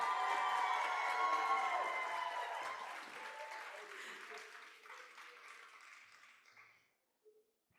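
An audience at a student oratorical competition breaks into loud applause that swells, then gradually fades to quiet, with scattered voices underneath.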